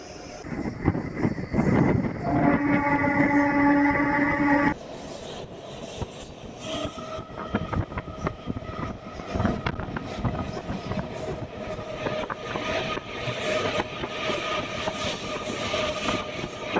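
Anantapur–KSR Bengaluru MEMU passenger train rumbling along the rails near Puttaparthi, with a steady loud broadband roar, rhythmic wheel clatter and a brief tonal horn-like hum early on, continuous throughout without speech.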